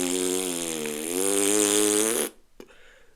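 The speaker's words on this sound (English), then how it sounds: "the loudest fart anyone had ever heard echoed out of his butt" A loud, drawn-out cartoon fart sound effect blares alone for about two seconds, a buzzing tone that wobbles in pitch before cutting off sharply into near silence.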